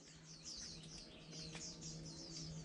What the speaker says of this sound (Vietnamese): chim khuyên về nhiều các bạn